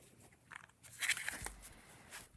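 A Star Trek tarot card deck being shuffled produces a quiet, brief riffle of crisp card flicks and soft rustles, close and faint, with no talking.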